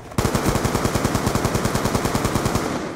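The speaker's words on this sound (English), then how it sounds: "Hold up, I swear I'm shooting him." Rapid automatic rifle fire from an AN-94 assault rifle in a Call of Duty shooter game, a steady loud burst of evenly spaced shots running nearly three seconds without pause, close and alone with no voices.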